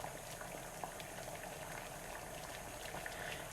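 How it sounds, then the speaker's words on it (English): Water boils hard in a pot, a dense, steady rush of bubbling and popping at close range with no voices. "can you see and listen how bubbly it is?"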